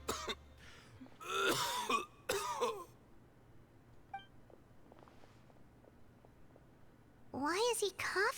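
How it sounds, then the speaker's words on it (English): A Genshin Impact character coughs and clears his throat in a few harsh, clustered bursts, moderately loud, with quiet game ambience and small clicks between them. "Why is he coughing so much?"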